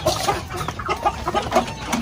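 Several Shamo chickens on a farm in General Santos City cluck in short, repeated bursts nearby, a busy scattered pecking chatter with no talking.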